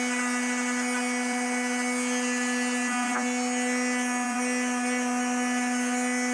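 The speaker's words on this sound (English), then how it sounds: "Then I go back at the edge with the power sander." An electric power sander runs steadily on a wooden edge, smoothing away grinder marks, with a strong constant motor whine and a couple of faint pitch dips as pressure shifts.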